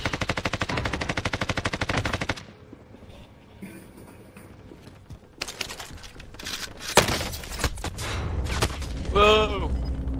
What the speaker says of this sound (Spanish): Ah, ya me está disparando el sniper.